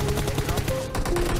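AKM rifle gunfire in a video game, rapid automatic bursts of sharp cracks in a steady rhythm, close and loud, with a voice talking over the shooting.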